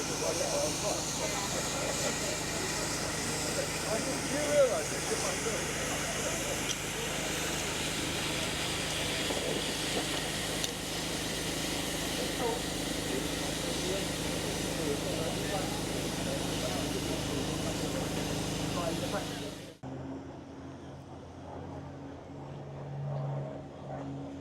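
A heritage train with a steam locomotive at the back and a diesel at the front runs on a steady, loud rumble for about twenty seconds, then drops away to quieter ambience.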